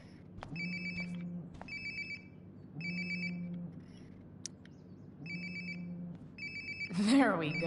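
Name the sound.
phone ringing in Life Is Strange: Before the Storm video game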